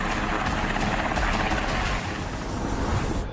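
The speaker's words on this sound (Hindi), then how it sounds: "ये मल्टी रोल हेलीकॉप्टर्स हैं और आर्मी की सबसे बड़ी ताकत।" Military multi-role helicopters roar loudly and steadily during an Indian Army border exercise, a dense continuous rotor and engine wash with no speech.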